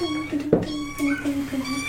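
A voice imitates a quiet fiddle that sounds like a kitten, with a thin, high, sustained mewing tone, a brief louder squeak midway, and softer wavering notes after it.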